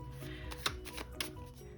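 Tarot cards being shuffled and drawn for a reading, a quick run of close, crisp riffling and snapping card sounds with a few sharper slaps, heard alone.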